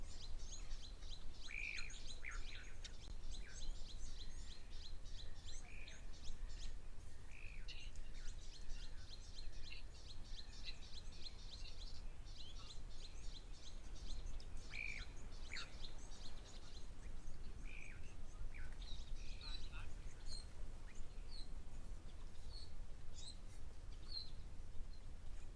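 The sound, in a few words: black-winged stilt calling at a waterhole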